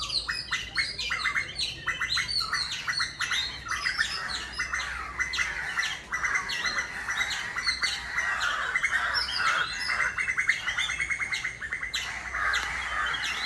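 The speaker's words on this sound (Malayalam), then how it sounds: "കുറേ കിളികളും കുറേ കാക്കകളൊക്കെ എത്തിയിട്ടുണ്ട്." Many birds and crows calling together around a new home in Kerala, a dense continuous chorus of harsh caws and squawks mixed with chirps, fairly close and busy throughout.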